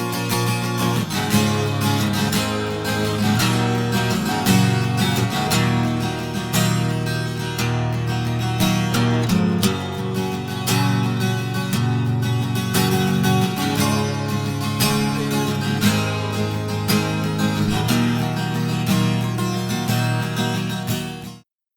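Bright, ringing strummed acoustic guitar with a shimmering doubled-string character, playing continuously and up close for the whole stretch before stopping abruptly.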